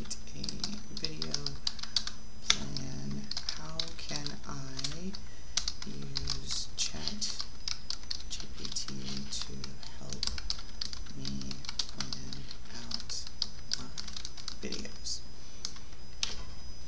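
Rapid clicking of a computer keyboard being typed on, continuous bursts with brief pauses over about seventeen seconds, close and clear with a faint background hum; no one speaks.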